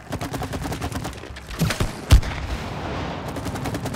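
Rapid bursts of video game gunfire from It Takes Two, a dense crackling fusillade running through most of the stretch with a sharper boom near the middle, fairly loud with no talk over it.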